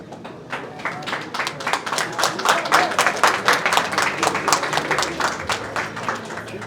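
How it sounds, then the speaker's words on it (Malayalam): An audience claps warmly at a Malayalam film event for Magic Frames' movie Prince and Family, a dense burst of applause that swells and then stays steady throughout. "ഒരു നല്ല കൈയടി."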